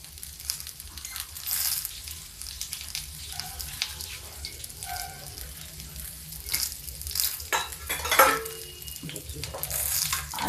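Vegetables, okra and potato, frying in a little oil on a tawa and being stirred, a soft continuous sizzle broken by scraping and clinking strokes of a spatula.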